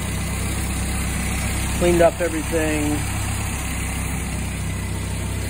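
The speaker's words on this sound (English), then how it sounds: "And the engine sounds fine." Steady, even idle of a car engine after a refurbishment with new hoses and a new throttle cable, a continuous low hum throughout, with someone speaking briefly over it midway.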